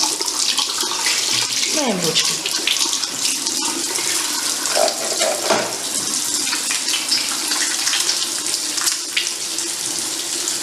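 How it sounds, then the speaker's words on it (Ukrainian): Water running from a tap in a hospital for handwashing before surgery, a loud, steady gushing stream throughout, with a brief spoken remark over it. "Відкриваємо кран з водою."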